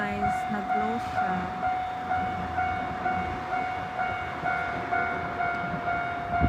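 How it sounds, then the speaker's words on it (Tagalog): A train passes a closed railway crossing. It makes a steady rumble with a regular, rhythmic clickety-clack of wheels over the rail joints and a sustained tonal ring above it, with faint voices in the background. "Kasi yung train is coming. So, nag-stop."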